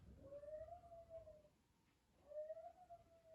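Dog howling indoors, two drawn-out rising howls separated by a short pause, faint and somewhat distant, with no talk.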